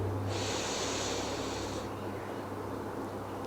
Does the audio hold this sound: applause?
no